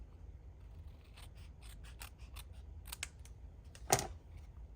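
Scissors snip through a paper tag in a quick run of close, crisp cuts, ending with one louder closing snap of the blades.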